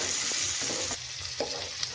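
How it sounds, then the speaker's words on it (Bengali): Prawns stir-fried in a pan for a brinjal and prawn curry: a close, bright sizzle broken by a few scraping stirs over about two seconds. "এরপর আমি এই চিংড়ি মাছগুলো দিয়ে দেব, দিয়ে ভালো করে এর সাথে নাড়াচাড়া করতে থাকবো।"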